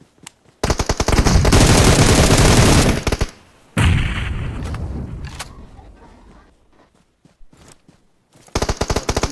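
Rapid bursts of automatic gunfire from an enemy behind the player in PUBG Mobile, loud sustained volleys broken by short pauses, then scattered shots and a final burst.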